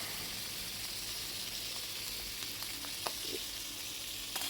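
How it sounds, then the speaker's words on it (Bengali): Small tengra fish fry in bubbling oil over a wood-fired clay stove, a constant fizzing sizzle with a few faint clinks and pops, no speech. "মাছগুলো ভাজা হতে থাকুক"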